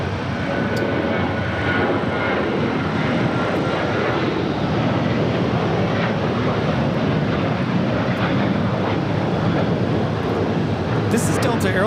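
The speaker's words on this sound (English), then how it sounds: "This is Delta Airlines 986 taking off to Austin on a 737-800." A Delta Airlines Boeing 737-800 takes off at LAX, its jet engines producing a strong, continuous roar that stays loud and even for the whole stretch, with no break in the noise.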